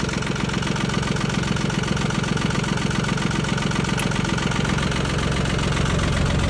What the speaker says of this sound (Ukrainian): Моторчик працює гарно, це є трьохциліндровий.